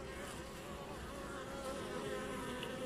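Honeybees hum steadily inside an open hive as a reproductive queen is introduced, a dense, continuous buzz of many insects close by with no talk over it.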